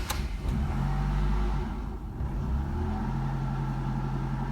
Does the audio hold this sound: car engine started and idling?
yes